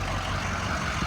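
A 2005 Ford F450 pickup's engine idles steadily at close range, a low continuous rumble with no voices over it.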